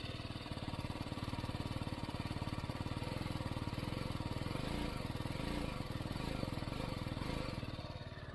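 A BMW G 310 GS or Suzuki V-Strom SX 250 budget touring motorcycle idles steadily after starting, its single-cylinder engine thumping in a fast, even rhythm, loud and close, running alone with no talk throughout.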